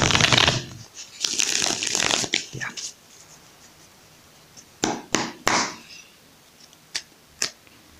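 Riffled tarot card shuffling, a long burst followed by several short crisp flicks of cards, close and fairly loud with no talking.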